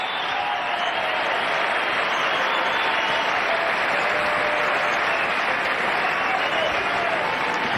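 A tennis crowd applauds a point won by Roger Federer, loud, dense and sustained clapping from a full stadium that holds an even level from start to finish without a break.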